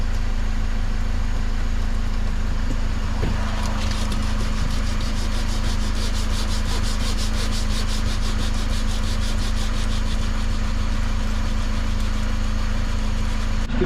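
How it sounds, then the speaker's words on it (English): A split on an inflatable SIB boat's hull gets sanded around the puncture, giving a continuous, close, loud abrasive rubbing with a steady rhythmic scratch throughout. "I'm just going to have to be super careful and sand inside the lines"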